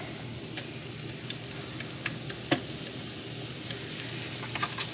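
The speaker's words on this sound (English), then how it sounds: "We're just gonna kind of grill the onions." Onions grill on a flat griddle for sliders, a soft, steady sizzle with a few faint crackles and ticks, fairly quiet and close.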